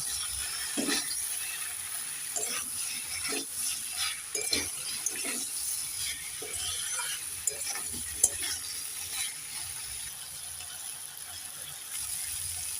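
Mustard and poppy seed paste with chopped tomatoes is stirred in a hot pan, a soft continuous sizzle broken by repeated spoon scrapes and taps throughout.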